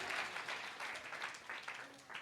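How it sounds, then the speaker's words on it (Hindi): A church congregation clapping during Sunday worship, a dense, fairly quiet wash of many hands applauding for a couple of seconds with faint voices mixed in. "जिनको समझ में आया है वो ताली बजा के प्रभु को धन्यवाद दे।"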